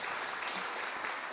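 Dense audience applause at a spiritual lecture, a brief, steady burst of many hands clapping at moderate distance.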